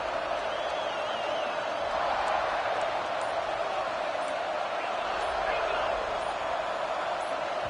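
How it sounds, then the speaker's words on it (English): A dense, constant stadium roar from the crowd in an American college football video game, Texas A&M at Kentucky, swelling slightly under a commentator's voice. "with this place rocking, the crowd forces a false start"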